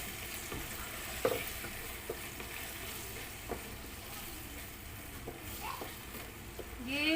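A spoon stirs minced beef and potato keema mixed with low-fat yogurt in a simmering pan, giving soft scraping strokes and occasional knocks at an irregular pace over a faint, steady sizzle.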